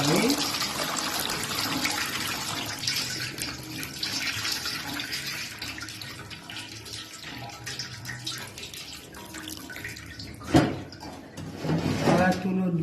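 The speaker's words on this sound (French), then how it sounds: "Ajoutons un peu d'eau. Pour vider le bicarbonate." Water is poured over bicarbonate-soaked pondu (cassava) leaves and drained off, a running, splashing flow with a clatter partway through, heard close under intermittent talking.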